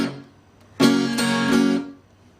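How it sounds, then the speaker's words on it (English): Open strums on an acoustic guitar played in a country blues style, a quick burst of bright ringing chords that sustains and fades, close and alone, with no talking. "It's gonna be a triplet of open strums."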